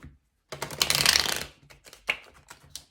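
Tarot cards being shuffled by hand in a dense burst of riffling and flicking, followed by a few short, softer card snaps; close and fairly quiet, with no talking.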